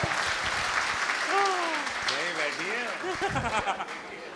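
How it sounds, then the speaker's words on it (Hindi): Applause from a school audience at a poetry recital event, steady clapping throughout with cheers and vocal exclamations rising over it midway. "और आप लोगों को तालियां बजानी ही होगी।"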